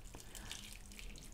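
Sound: liquid plaster being poured into a relief mold

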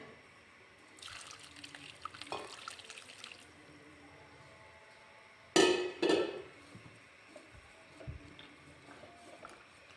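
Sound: cloth being dipped in water

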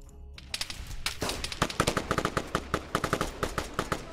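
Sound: gunfire in military video game

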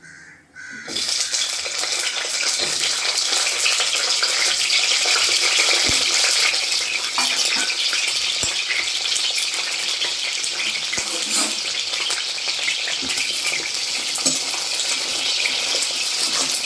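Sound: green chillies frying in hot oil

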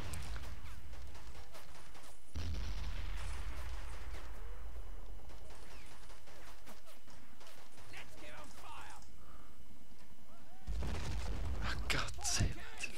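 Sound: grenade explosions in the video game Men of War

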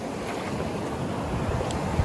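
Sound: ocean water colliding, waves on the beach

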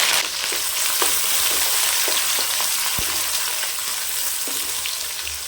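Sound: frying mustard seeds, urad dal, curry leaves and onions in oil

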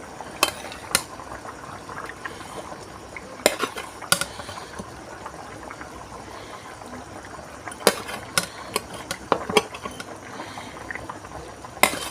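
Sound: adding catfish pieces one by one into curry pot

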